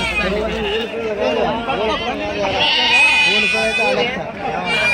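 Goats and kids bleat in wavering cries at a market, mixed with people talking nearby.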